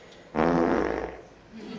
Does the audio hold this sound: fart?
yes